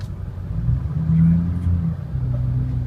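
A 2006 Ford F350 diesel pickup sits in drive with four-wheel drive high engaged, its engine giving a close, low, steady rumble that swells slightly midway.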